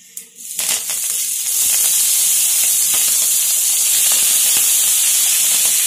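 Curry leaves and green chilies hit hot oil for red jowar kuzhi paniyaram, a sudden sharp crackle that swells into a loud, steady hissing sizzle.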